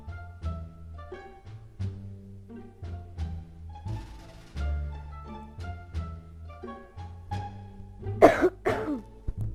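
A person coughs in a short, sharp burst near the end, loud and close, following a stretch of tonal Minecraft game music.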